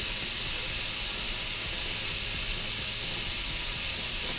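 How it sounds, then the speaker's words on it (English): Vegetables for a spicy chicken stir fry sauteing over high heat, a steady loud hiss and sizzle filling the pan throughout with no talking. "We're gonna saute this over high heat, get a nice caramelization, that nice browning on these vegetables"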